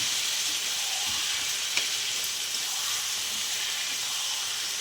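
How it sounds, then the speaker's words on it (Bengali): Mashed banana flower for a mung dal dish being stirred in a hot pan, giving a steady, even sizzle heard close up, with a faint scrape or tap now and then and no talking. "আমি এখানে চটকানো মোচাটা আমি দিয়ে দিচ্ছি। আমি ভালো করে একটু নেড়ে নেব।"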